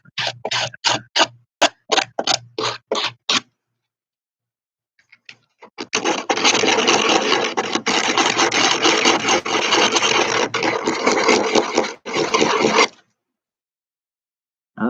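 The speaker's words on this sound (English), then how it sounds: "I'm going to use a finer sandpaper to actually make that smoother" Sandpaper rubbed by hand on a homemade wooden sliding-door handle: a burst of short rhythmic rasping strokes, a pause, then a long steady scrubbing passage, close and clear with no talking.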